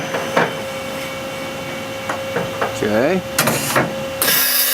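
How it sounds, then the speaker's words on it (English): A Mori CNC machine performs a tool change to a 3/8 chamfer mill, a steady whine with sharp mechanical clunks, a short rising servo sweep and a final hiss, while someone speaks briefly. "Tool change again."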